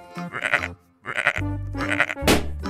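Sheep bleating in an animal video game, a few wavering close bleats spaced with short gaps, ending in a brief bright noise burst.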